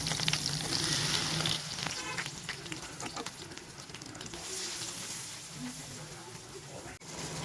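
Onion-spice paste fries in hot oil for a chicken kofta curry, a soft continuous sizzle with crackling bursts, faint and close, with occasional stirring.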